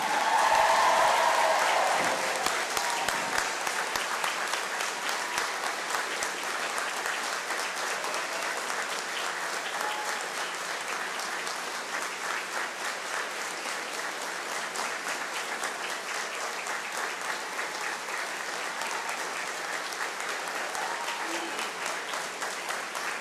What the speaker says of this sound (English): Now let's have a big round of applause for the graduating class of 2013.